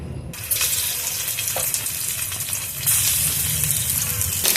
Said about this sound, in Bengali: তেলটাও গরম হয়ে গেছে এবার পনিরগুলো আমি একটু ভেজে নেবো